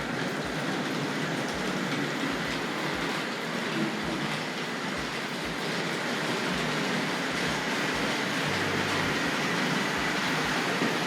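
Tri-ang R.56 Baltic tank model locomotive running on a model railway, a steady, fairly soft rhythmic clickety-clack of small wheels over rail joints continuing throughout.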